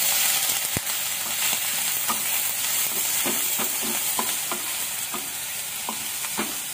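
Onion frying in a little oil with cinnamon pieces and chilli, a steady bright sizzle with regular scraping stirs of a spoon against the pan, close and without talk.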